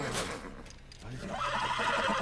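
A horse whinnies in The Last of Us on PS4, a short neigh up close followed by softer hoof clops, with faint voices around it.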